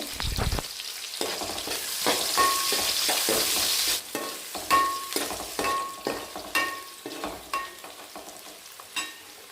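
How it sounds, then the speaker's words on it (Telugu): Two large sliced onions frying in oil with green chillies for coriander rice, a steady sizzle broken by repeated spatula scrapes and stirring strokes against the pan, close and fairly loud. "ఇప్పుడు నేను రెండు పెద్ద సైజులో ఉల్లిపాయలు కట్ చేసి పెట్టుకున్నా ఇవి కూడా దూరగా వేగేంత వరకు కలుపుకోవాలి"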